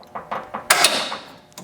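A Professional Awesome Racing quick release cable mechanism on a car clicks as it latches in a few quick, close mechanical snaps, then a louder ratcheting pull and a final click.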